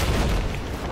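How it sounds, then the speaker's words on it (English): A missile explodes close beside a vehicle in Battlefield 4 on the Dragon Pass map. It comes as a loud, dense, continuous blast roar that fills the whole short moment, with no talk over it. "We went by a missile, something flipped us."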